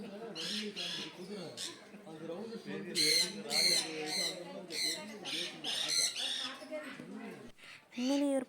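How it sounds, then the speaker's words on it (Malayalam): A green parrot at a family farm villa in Chavakkad squawks in a run of loud, harsh, repeated calls, with the louder cries clustered midway through and again near the end. "ഇങ്ങനെ ഒരു പച്ച തത്തുമ്മ."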